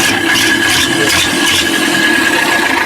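A steady 60-horsepower tractor engine drones throughout with a constant mid-pitched hum and faint rattling, close by and unbroken, with no voices.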